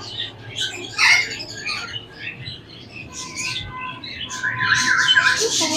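A tame two-year-old female yellow ring-neck parakeet squawks and chirps amid a busy Sunday bird market in Multan, with bursts of calls from nearby birds over a low crowd rumble.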